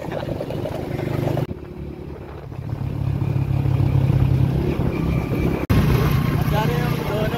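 Motorbike ride on a road to a Mahadev temple, steady engine drone and wind rumble running throughout with a brief dropout, someone talking over it.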